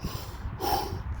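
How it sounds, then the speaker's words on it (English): A man takes a deep, noisy breath through the nose from the stomach, close up, during a voice-training exercise. It is a single drawn-out inhale with a snort-like rush of air and no talking. "And then you breathe with the stomach."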